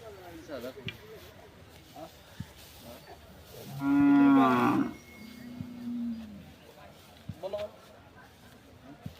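A bull at a livestock fair gives one long, deep, loud moo, with people talking nearby before and after.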